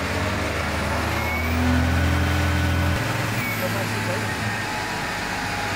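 A first-generation Cummins diesel engine cranks and fires, then settles into a steady, loud, close rumble, its pitch shifting partway through, while a person talks over it.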